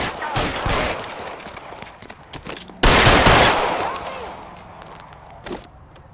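Gunfire in an L.A. Noire video game shootout: loud bursts of rapid shots up front, then another heavy volley midway that trails off into echo, with a few scattered sounds after.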